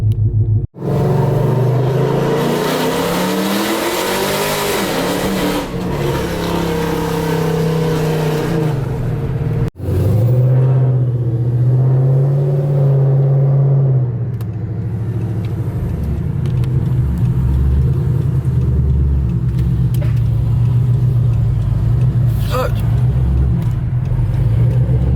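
A car drives on the road with a loud, continuous engine rumble and road roar, its pitch shifting as it accelerates and slows, with a brief interruption partway through.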